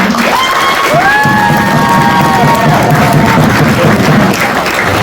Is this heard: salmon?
no